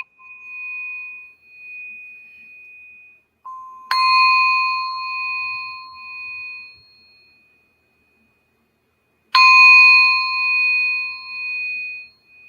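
Two long, bright metallic strikes from a gong closing a show, each ringing out and slowly fading over several seconds, with a softer sustained tone heard before the first hit.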